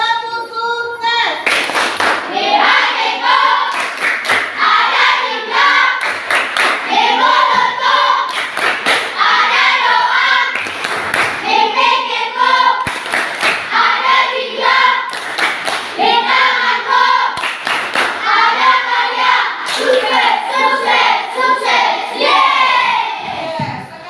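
A classroom of children does a rhythmic clapping chant, sharp bursts of hand claps and thumps repeating in patterns with shouted chant voices over nearly the whole stretch, loud and close.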